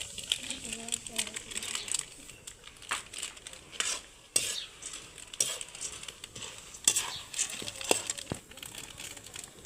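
Murmura and poha chivda being stirred in a pan with chivda masala over a wood-fired chulha, with scraping spoon clinks and dry rustling crackles in an irregular rhythm, close and moderately loud.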